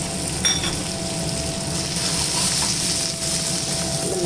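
Onions fry in a pan with garlic and dried chilies for a chow chow chutney, a steady, dense sizzle that runs unbroken and fairly loud from start to finish, with no talking.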